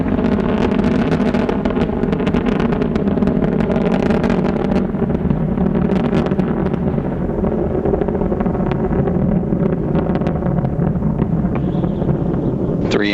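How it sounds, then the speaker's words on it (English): Space Shuttle Endeavour on its final launch, its three main engines throttling down through maximum dynamic pressure: a continuous, loud, broadband roar with heavy low rumble and crackle, steady throughout and without pause. "Three engines now throttling down as Endeavour passes through the area of maximum dynamic pressure on the vehicle in the lower atmosphere."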